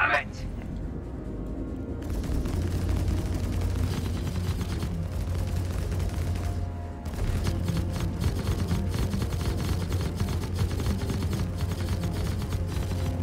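Spaceship weapons firing in Star Citizen, rapid repeated bursts over a steady low engine hum, with a brief lull partway through and someone talking over it.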